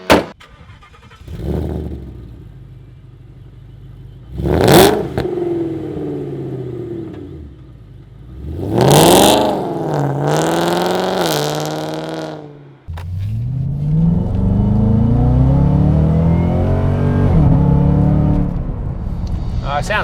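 A supercharged 727-horsepower Roush Mustang engine revs in several loud bursts, its pitch sweeping up and falling back, then settles into a sustained rising roar as it pulls away.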